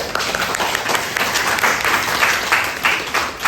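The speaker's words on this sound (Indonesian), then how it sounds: "Oke, give applause dulu." An audience applauds at an Indonesian cultural kinship event, steady, dense clapping from a group throughout that rises and falls slightly in waves, fairly loud and close.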